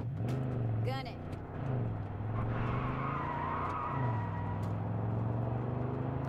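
Car accelerating in the video game Far Cry, a steady engine drone with rising and falling pitch sweeps, a brief skid-like burst near the start, loud and continuous throughout.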